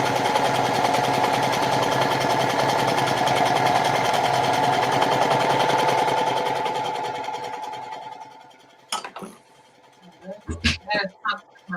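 A sewing machine top stitching a bandana tote bag runs in a fast, steady whirring buzz for several seconds, then stops, followed by a few faint clicks and handling sounds.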